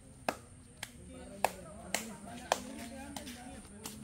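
A contestant in a mini tournament game claps slowly, about seven crisp single claps spread across a few seconds, near and distinct over a murmur of voices.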